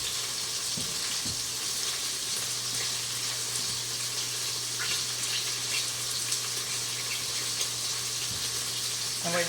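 Food sizzles steadily in butter in a pan, a constant bright crackle with a few soft clicks, heard up close with no talking.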